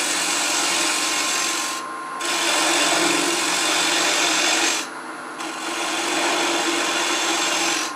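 A turning tool scrapes and cuts across the face grain of a wooden bowl spinning on a lathe, a sustained rasping whir that drops out briefly twice before resuming, with no talking.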